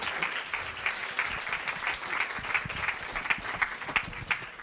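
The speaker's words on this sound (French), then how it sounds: "Sous vos applaudissements, on peut l'applaudir bien fort." Audience applause during a French radio broadcast special, a steady dense clapping from a studio crowd for a guest being introduced, sustained and even throughout the few seconds.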